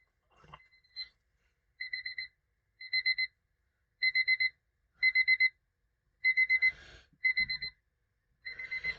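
A phone alarm rings in a repeating pattern of short, bright double-toned beeps, about eight evenly spaced bursts over near silence, fairly loud and close, with a faint knock just before it starts.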